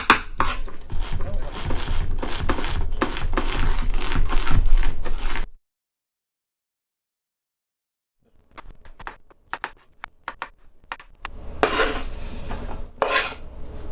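Vegetables being chopped on a board for a crustless quiche: a run of quick knife strikes, then several seconds of silence, then more scattered chops and scraping, all close.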